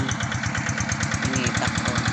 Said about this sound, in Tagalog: Napaandar na po nila yung makinang pinalit nila.